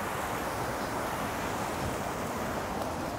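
Water from a wild riverside stream flows in a steady, dense rush that fills the whole moment without a break, with no voices over it.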